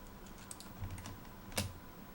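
Quiet keystrokes on a computer keyboard, a handful of light taps with one louder press near the end, against a hissy background and no voices.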